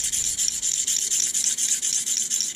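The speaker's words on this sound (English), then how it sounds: "we're going to sharpen the thing back up" A thin knife blade is drawn over a Smith's pocket hone in quick, repeated rasping strokes, close and steady with a regular rhythm and no talk.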